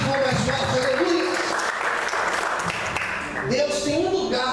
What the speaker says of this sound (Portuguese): Aplauda o Senhor mais forte, aleluia.